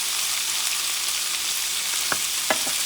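Corned beef being stirred in a pan over medium heat gives off a constant hissing sizzle, with a few short scraping clicks from the utensil near the end and no talking.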